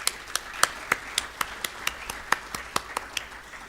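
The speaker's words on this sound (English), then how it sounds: "give a round of applause to the technical team, researchers, and data experts" Applause at the official launch of the Rwanda Governance Scorecard 12th Edition in Kigali, heard as a thin, sparse run of distinct claps at a steady rhythm, moderately loud and close, with no talking over it.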